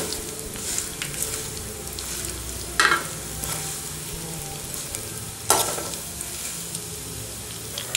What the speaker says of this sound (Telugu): ఆయిల్ కొంచెం వేడైన తర్వాత ఇవి ఉన్నాయి కదా, ఆవాలు, జీలకర్ర, ఒట్టి మిరపకాయలు ఇవి వేసేసుకోవాలి. వేసుకొని కలుపుకోవాలి.